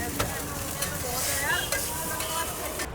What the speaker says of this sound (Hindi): बनी हुई चाउमीन को भी फ्राई करते हैं स्पेशल बनाने के लिए।